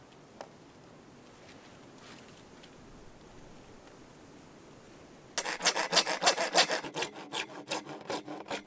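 A handsaw cuts through PVC pipe, with quiet room tone at first and then a burst of rapid, rhythmic back-and-forth strokes, close and loud, in the final few seconds.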